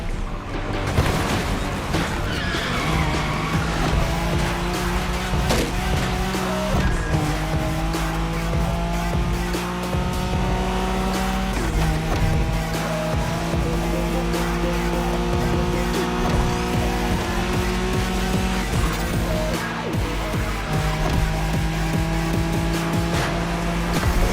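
Nissan Skyline racing in The Crew Motorfest, its engine droning steadily with tire squeal and skidding throughout, loud and continuous over a layer of tonal sound.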